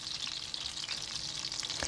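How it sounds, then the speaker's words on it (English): Turkey cutlets fry in a pan, giving off a steady, close, crackling sizzle of hot oil that pops and spits throughout without pause, heard alone with no voices. "you can also partially cook these by frying them and then heat them up"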